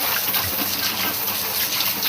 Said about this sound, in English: You guys can see me washing pineapple.